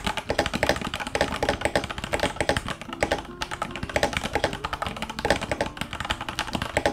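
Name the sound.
typing on a muffled linear mechanical keyboard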